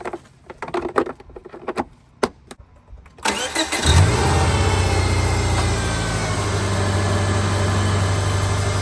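An abandoned Subaru engine cranks after some clicks and knocks, catches, and settles into a loud, steady idle close by.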